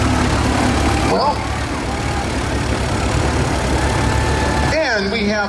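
A 1940 Minneapolis Moline Model R tractor, rated at 20 horsepower, runs steadily at a lighted tractor parade in Calistoga, a loud, continuous engine rumble close by, with some whistling tones and voices over it.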